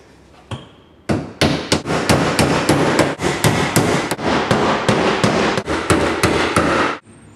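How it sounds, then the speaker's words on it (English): Finishing nails driven by hammer into a replacement plywood floor of a kitchen sink base cabinet: a rapid, steady series of about twenty loud, close blows with no talk. "Secure with finishing nails."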